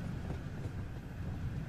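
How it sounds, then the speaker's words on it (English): An LMS Jubilee class steam locomotive train in the Train Sim World 2 game rolls along with a faint, low, continuous rumble of wheels and carriages, brief and steady, with no talking. "This train is powered by an LMS Jubilee class steam locomotive."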